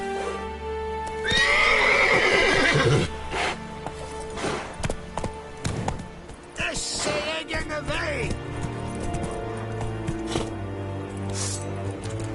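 Roach the horse in The Witcher 3 galloping with clip-clop hooves, a loud whinny near the start, game music and voices mixed throughout.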